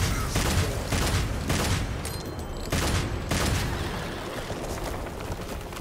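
Rapid gunfire in the Devil May Cry 5 game demo, with several loud, punchy shots in a quick rhythmic series and then a lingering rumbling tail.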